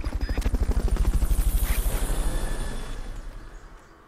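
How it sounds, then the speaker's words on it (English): Rotor thump of a Fulton recovery helicopter in the video game Metal Gear Solid: Peace Walker, a loud rapid chopping pulse that swells early and then fades as the aircraft pulls away. "Fulton recovery subject confirmed onboard helicopter."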